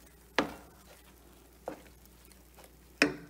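Three short bursts of sizzling as spices are tempered in hot ghee for rava pongal, each flaring loudly then fading, with quiet pauses between.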